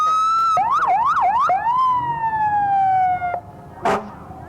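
Fire truck siren sounding in a small-town Highland festival parade, a loud wailing and yelping tone sweeping up and down close by, then holding a long falling wail before a short horn-like burst at the end.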